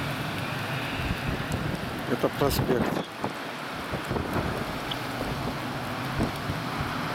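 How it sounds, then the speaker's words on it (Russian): Strong wind roars and buffets the microphone continuously while someone speaks briefly over it. "бурный ветер"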